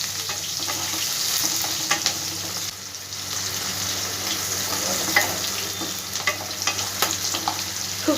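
Large chunks of onion frying in a pan of hot oil with panch phoron for a potato curry, giving a steady dense sizzle throughout with occasional stirring scrapes, close and fairly loud, no talking.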